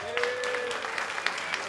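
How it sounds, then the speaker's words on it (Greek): Audience at a stand-up comedy show claps in a brief burst of applause, scattered sharp hand claps over a steady crowd wash, moderately loud, with a faint voice over it. "Πόσοι χαρήκανε, για χειροκροτήσε."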